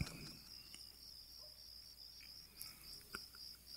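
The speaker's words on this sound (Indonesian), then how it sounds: "Sesekali kudengar suara binatang malam seperti jangkrik" Night crickets chirp in a steady, high, faint trill that runs throughout in a quiet setting, with a few soft distant clicks and taps.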